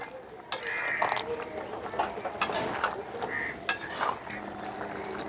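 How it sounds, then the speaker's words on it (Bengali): Shukto with bori being stirred in a pan, quiet scraping and clinking of a spoon against the pan coming in short irregular strokes. "আর সঙ্গে দিয়ে দিচ্ছি বড়ি একটু নাড়াচাড়া করে"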